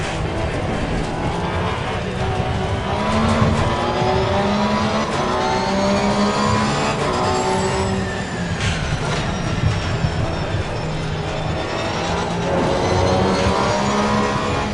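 Race car engine from Assetto Corsa Competizione on the PS5 at the Monza circuit, a steady, loud engine drone with rising and falling harmonic pitch that runs continuously through the whole stretch.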